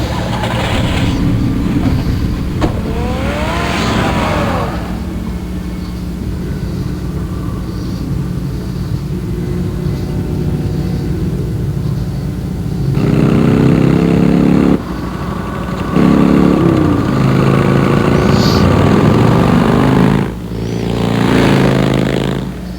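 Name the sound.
car driving in video game Batman The Telltale Series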